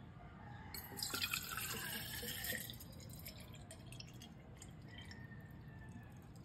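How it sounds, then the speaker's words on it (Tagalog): Cold water poured from a container into a child's water bottle, a steady liquid trickle with bright splashing near the start that settles into a quieter continuous pour. "isasaling ko lang yung cold water sa kanyang water bottle para malamig na tubig ang kanyang maiinom"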